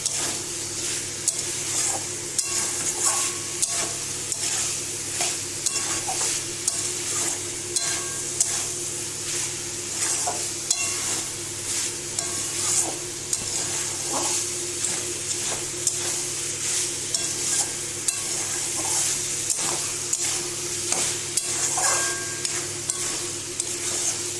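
Peas and potatoes frying in a pan with a continuous bright sizzle, punctuated by frequent scraping and clicking of a spatula stirring, close and steady throughout.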